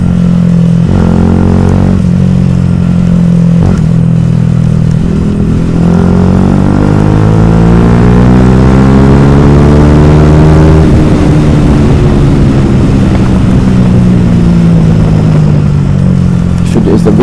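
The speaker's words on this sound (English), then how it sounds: "The exhaust sounds really bassy." A Yamaha YZF R125 125cc motorcycle pulls hard at full throttle, its deep, bassy exhaust rising steadily in pitch through a long loud run, with gear changes and wind rush close by.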